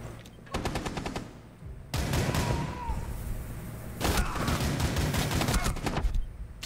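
Video game gunfire in dense automatic bursts, rapid rattling volleys starting early, easing briefly, then surging loud again and running nearly continuously through the second half.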